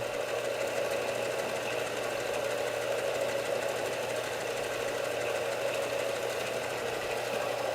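A bench chisel-sharpening machine with a green-compound wheel hums steadily as it comes up to speed, a continuous mechanical whir with a faint rattling vibration and no talk.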